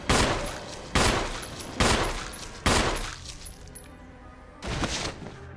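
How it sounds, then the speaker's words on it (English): Gunshots in the video game Resident Evil, heard as five loud, separate blasts roughly a second apart, each trailing off into a short decay, with no talk over them. "And then we're gonna shoot this fella."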